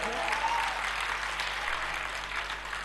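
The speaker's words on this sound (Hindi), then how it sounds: "एक बार सब लोग मिल करके ताली बजा दीजिए।" Steady, dense audience applause at a live Hindi poetry and song recital, sustained evenly across the clip with no voices breaking through.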